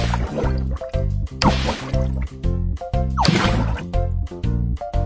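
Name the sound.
water being filtered in BabyBus video game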